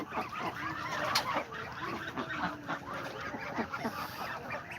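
A flock of farm ducks, with newly hatched ducklings among them, honk and quack loudly and continuously close by, several birds calling over one another with no talking.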